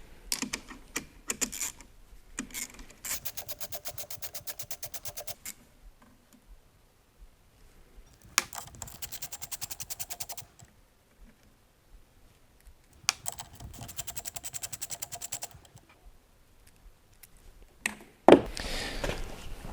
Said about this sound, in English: it looks like we've got 10mm bolts inside of here, which will get undone next